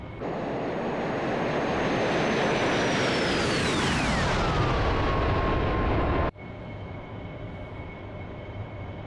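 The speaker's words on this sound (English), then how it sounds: "There's that F-15 that was coming up behind us." An F-15 jet in the DCS flight simulator roars loudly and steadily with a descending whine as it passes, then cuts abruptly to a quieter, steady engine hum.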